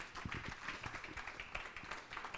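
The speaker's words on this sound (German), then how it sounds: "da hätten wir jetzt gern einen Applaus." Audience applause at a literature reading, a moderate round of scattered clapping from a small crowd, steady and fairly close for a few seconds with no voices over it.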